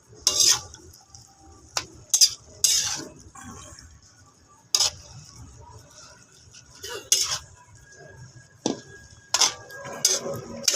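Adobong kangkong with tofu is stirred in a pan over a charcoal fire, with sharp intermittent metallic clanks and scrapes of the utensil against the pan over faint simmering between strokes.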